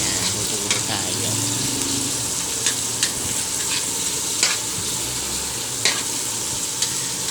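Garlic, onion and ground meat sauté in a pan with a steady, close sizzle, broken by occasional sharp scrapes and clinks of stirring.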